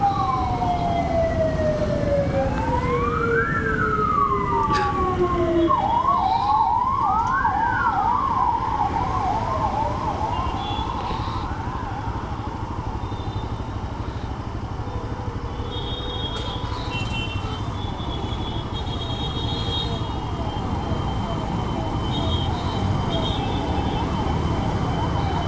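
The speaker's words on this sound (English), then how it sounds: "Oh, lot of ambulance is coming." Several ambulance sirens on MG Road in Bangalore wail and yelp loudly, their rising and falling tones overlapping as they pass close by over steady traffic noise.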